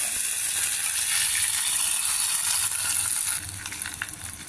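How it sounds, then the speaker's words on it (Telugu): A hot tempering of mustard seeds, fenugreek, dried red chilli and asafoetida is mixed into a tamarind-free stew. It makes a bright, close sizzling hiss that holds steady and then eases off near the end. "ఇంగు పోపు మనం పులుసులో మిక్స్ చేస్తాం"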